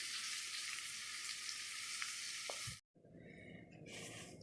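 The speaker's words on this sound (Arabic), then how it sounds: "واقلب البصلايه كده تقليب كده ايه مستمر لغايه ما البصلايه تتحمر معايا وتدينا اللون الذهبي" Onions fry and are stirred constantly in a pan for Egyptian koshari, a steady close hiss of sizzling oil, briefly cut to silence, then resuming a little quieter with stirring.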